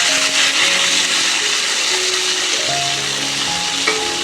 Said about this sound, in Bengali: সব পটলগুলো একসাথেই দিয়ে দিলাম।